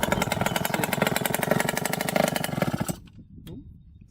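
A Yamaha YSR motorcycle engine running rich revs with a rapid, buzzy two-stroke putter, loud and close, then cuts off abruptly to near silence with faint sounds after.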